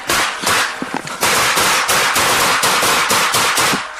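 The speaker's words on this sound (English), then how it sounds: "5-7 shots fired, subject down." Police officers fire a rapid barrage of gunshots captured on a body camera, a loud close string of sharp cracks repeating in quick succession throughout.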